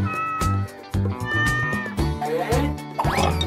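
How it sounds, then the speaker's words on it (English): A cat meows against a busy, bright background of music and chimes, with short tonal cries rising near the end amid loud accompanying sounds. "Cat."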